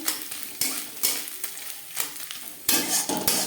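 Grated coconut frying in hot mustard oil in a pan, with a steady close sizzle broken by several sharp scraping stirs and a few clinks of a utensil, no voices.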